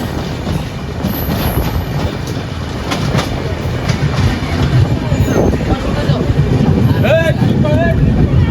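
The Saraighat Express runs along with a continuous loud rumble and clickety-clack of its railcars, heard from aboard with voices chattering nearby and a brief horn or whistle-like tone near the end.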